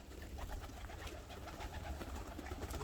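Pigeons, blue tumbler pigeons, cooing and fluttering amid steady outdoor village background noise, the low murmur continuous throughout without any talking.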